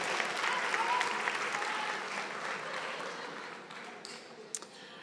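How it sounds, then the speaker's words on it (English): A graduation audience applauds in a steady wash of clapping that slowly thins toward the end, with a few sharper individual claps near the finish. "I'd like to ask you for a round of applause"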